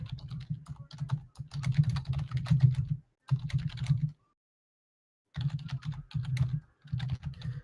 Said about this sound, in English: I'm typing up responses to people to messages that you guys have relayed out